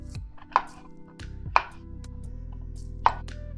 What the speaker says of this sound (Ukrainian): В одній формі нарізаємо грибочки.